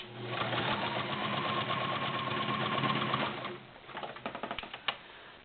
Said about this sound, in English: Hear it working a little harder to punch through that.